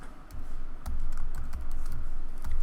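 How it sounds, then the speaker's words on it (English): Typing on a computer keyboard while entering text into photo software, a quick run of close, crisp key clicks with a few louder taps and no voices. "this is where I can type something"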